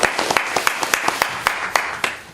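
Scattered applause at a political party meeting, a modest crowd clapping with irregular sharp claps, fairly distant in a room.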